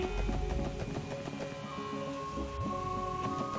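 Steady rainfall in Trails From Zero, a continuous soft hiss of rain with low rumbling underneath, overlaid by tonal background music.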